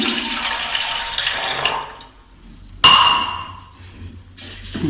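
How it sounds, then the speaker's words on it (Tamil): Neem and turmeric liquid poured into a filter: a steady splashing pour that fades out, then a sharp clink of glass followed by trickling, close and with no one speaking. "ஸோ இப்போ இது என்னுடைய ஃபில்டருக்குள்ளே ஊற்றிக்கிறேன்."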